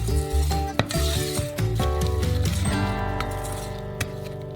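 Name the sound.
stirring cream in a pan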